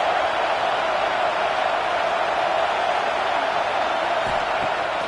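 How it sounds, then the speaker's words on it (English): A stadium crowd roars in a college football video game, a loud, unbroken wash of cheering that holds steady throughout. "Listen to this crowd just shaking the girders of this place, trying to help their defense."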